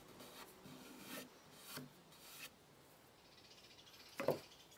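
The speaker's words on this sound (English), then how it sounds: "so I'll clean it up with my spokeshave instead" A spokeshave cleans up damaged pallet wood with a few rasping strokes in a steady rhythm, fairly quiet and close, ending in a sharper knock.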